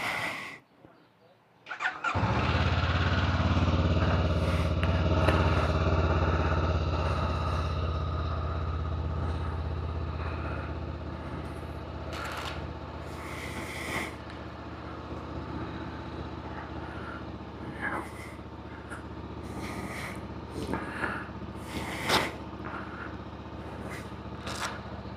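Motorcycle engine that had sat unused for about three weeks cranks and fires after a short silence, then runs in a loud, steady idle close to a helmet-mounted microphone, easing slightly as it settles, with faint rustling over it.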